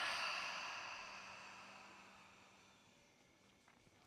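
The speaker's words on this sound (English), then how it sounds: "Fill the lung completely. Exhale through the mouth." A long, slow exhale through the mouth, heard up close as a soft breathy rush that starts strong and gradually fades away over several seconds.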